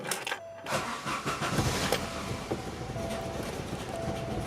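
A Saab 900 engine idles roughly and continuously up close, running badly with the check engine light on, with a brief dip near the start and uneven sputtering throughout.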